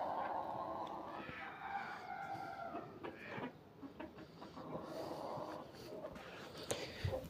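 Chickens clucking and murmuring in a backyard pen kept alongside rabbits, a soft busy chatter of fowl through much of the clip with other low background noise.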